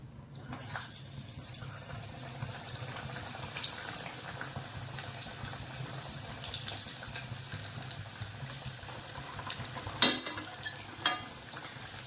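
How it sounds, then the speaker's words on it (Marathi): Khari patties frying in oil, a faint steady bubbling sizzle that continues throughout, with a couple of small clicks near the end. "आता आपण याला तेलात सोडून घेऊया."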